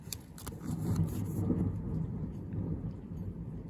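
Low thunder rumbles through an outdoor storm, a deep rolling grumble that swells and lingers at moderate distance, with faint patter and a few brief knocks near the start.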